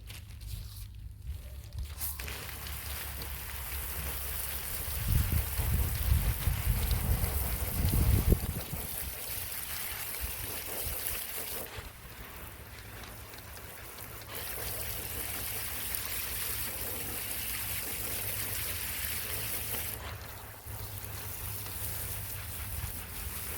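Steady outdoor rain hisses without a break, swelling louder for a few seconds partway through, with no voices.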